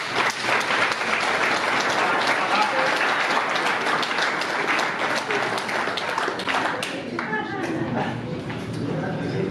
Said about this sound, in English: Ladies and gentlemen, a round of applause for Miss Allison Cousins.